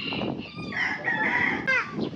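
Chickens cluck and squawk up close in a quick, jittery series, with a higher rising call near the end.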